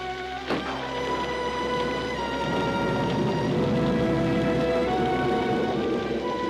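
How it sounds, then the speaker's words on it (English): Steady rain falls during a stormy night in a classic Smurfs cartoon, a continuous dense patter under soft background music, with a brief sharp hit near the start, no voices heard. "It's only a little storm."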